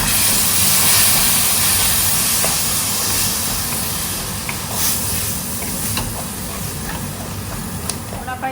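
Ground tinda (apple gourd) pulp tipped into a hot pan of onions, giving a steady broadband steam-like hiss and sizzle that holds at an even level throughout, with faint clinks scattered through it.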